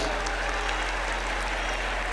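Steady audience clapping at an Urdu poetry recital of an emotional nazm, a dense continuous wash of applause from a crowd, fairly loud and even throughout with no pauses.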